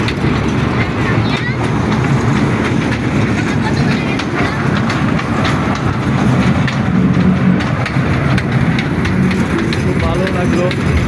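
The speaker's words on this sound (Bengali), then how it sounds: "এখানে একটি রেলগাড়ি উপভোগ করতে পারবেন" A toy train ride at a fair on the bank of the Buriganga River rumbles along with a steady, loud, rhythmic clatter of wheels on track, mixed with voices and crowd noise throughout.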